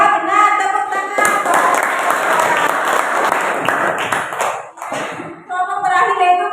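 Classroom group clapping together, loud and close, a dense burst of applause lasting several seconds with a short dip before resuming, while voices chant or talk over it.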